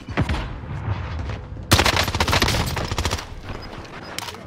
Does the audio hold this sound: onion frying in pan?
no